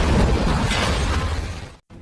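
Bomb blast from an ice cream truck in a naval action film, a dense, loud broadband roar with heavy low rumble that holds steady for nearly two seconds, then cuts abruptly to silence before a faint resumption.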